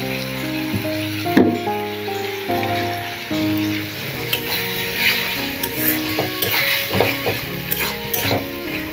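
Onions fry in hot oil in a pan as tomato and a ginger-garlic-onion paste are added for a village-style country chicken curry, giving a steady crackling sizzle with bursts of spattering and the scrape and clink of a utensil against the pan.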